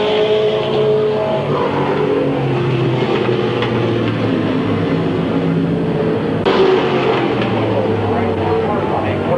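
Race cars roaring around Midvale Speedway, a dense, loud, continuous engine drone from several cars at once, with a sharper surge as one passes close partway through.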